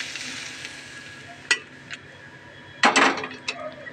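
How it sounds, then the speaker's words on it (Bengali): Bay leaf and white cumin seeds sizzle in hot oil for a dal tempering, a steady close hiss punctuated by a few sharp utensil clinks and a louder burst of spitting near the end. "তেজপাতা, সাদা জিরে ফোড়ন দিতে হবে"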